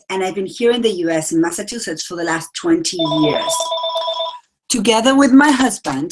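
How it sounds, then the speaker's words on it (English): A phone rings with a steady electronic tone for about a second, heard alone in a pause between stretches of someone speaking. "and that was my phone ringing"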